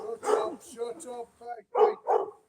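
Rescue dogs bark in a few sharp bursts near the end, following and overlapping someone talking close by.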